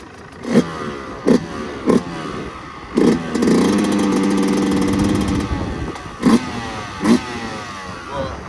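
A new motorcycle's engine, just warmed up, revs in several short loud blips, then holds one longer sustained rev with mechanical clatter before more quick throttle bursts, all close by.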